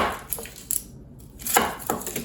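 A knife cutting a small onion into quarters on a board, a few firm chopping knocks spaced unevenly, close by and fairly loud with a brief quiet gap between cuts.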